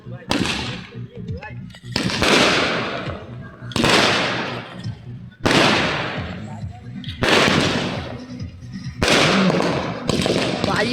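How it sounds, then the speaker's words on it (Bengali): Firecrackers burst at a cricket tournament: six loud, sharp bangs about two seconds apart, each trailing off in crackling echo, with faint voices in the background. "এখন বাজি ফাটাবে"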